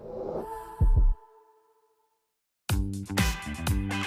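A deep, thumping heartbeat effect, two heavy low pulses followed by silence, then a louder burst of rhythmic throbbing beats with a tonal swell.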